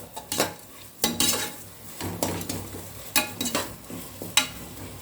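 A spatula scrapes and stirs onions in a pan in irregular strokes over a soft sizzle of frying, close by with no talking.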